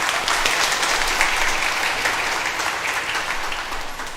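Congregation applauding during a Catholic Mass, dense steady clapping that holds strong and slowly tapers near the end.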